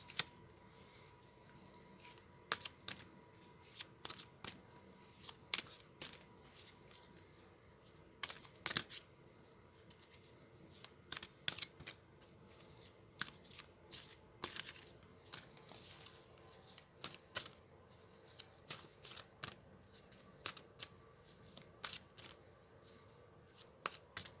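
Angel cards are shuffled by hand at close range, soft papery riffles and slaps coming in quick irregular bursts over a quiet room background.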